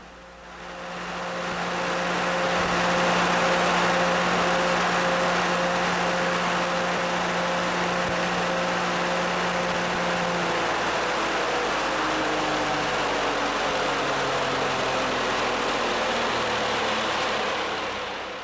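An engine controlled by a Controls Incorporated weekly scheduler module runs with a steady, loud hum and broadband roar, its pitch gradually dropping in the second half as it slows down.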